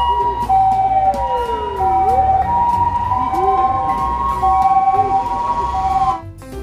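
A white toy ambulance sounds its electronic siren, cycling through wailing and sweeping tones at close range, loud and continuous before cutting off abruptly near the end.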